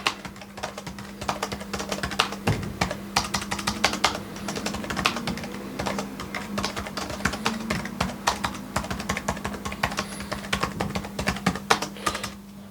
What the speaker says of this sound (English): I'm going to just do some typing so you can get a rough idea